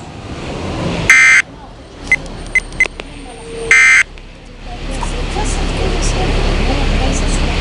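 A Weather Radio Canada alarm activation test sounds as two short, loud, harsh buzzing tone bursts, with a few brief beeps between them, over a steady background hiss.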